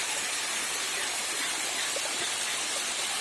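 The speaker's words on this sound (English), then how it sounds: "Another angle of the waterfall." Pragathi Nagar waterfall in the rainy season, a steady, loud, broadband rush of falling water that continues unbroken and alone throughout.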